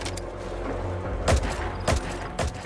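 Three assault rifle shots fired at a distant sniper in Metal Gear Solid V, single sharp cracks spaced about half a second apart over a steady low game ambience.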